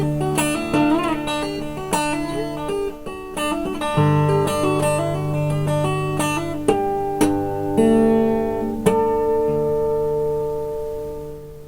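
Solo guitar picks a ringing pattern of bell-like harmonics over sustained open strings, notes overlapping and slowly fading at the end.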